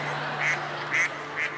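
A stage performer imitates a duck, voicing three nasal quacks at an even pace over a steady background hum, fairly close and clear.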